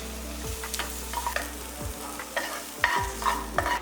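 Onions and tomatoes being stir-fried in a pan for a vegetable kurma, with a spatula scraping and knocking the pan every second or so over a soft sizzle, close and fairly quiet.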